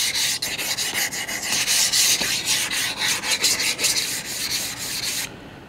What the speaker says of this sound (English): today I'm using an Atoma plate for flattening